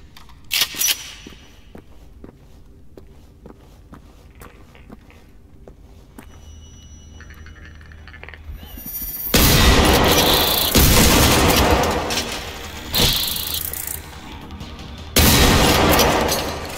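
Loud bursts of gunfire and heavy blasts in the video game GenZ, fighting on the road to Salthamn, erupt after a quieter stretch of faint clicks and ticks and come in two or three dense volleys.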